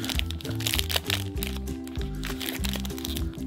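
A 2020 Leaf Draft trading card pack wrapper crinkles and crunches as it is opened, steady close rustling throughout over a low tonal background hum.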